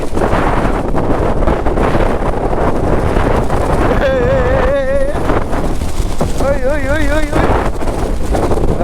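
Strong monsoon wind roars into the microphone on a motorbike ride through rainy Chikmagalur, a loud continuous rumble throughout, with a high wavering tone rising over it twice in the middle and a voice heard faintly.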